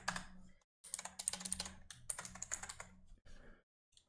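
Quick bursts of light clicking on a computer keyboard as a name and password are typed in, close and quiet, with short pauses between the runs of keystrokes.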